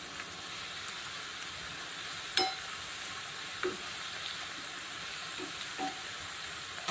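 Colocasia leaf bhaji fritters fry in oil in a pan over low heat, a soft, even, continuous sizzle with a few faint clicks and taps from turning them.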